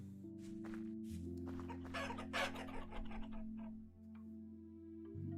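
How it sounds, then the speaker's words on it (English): Wild chickens in the survival game Vintage Story cluck and call in a steady run of short, close clucks, with a rooster-like crow among them, over a low sustained game ambience and no talk. "There's a bunch of wild chickens down here"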